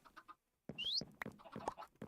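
Minecraft chickens cluck in short, choppy bursts, a few quick clucks, a brief pause, then a busier run of clucking and squawks, fairly close and clear.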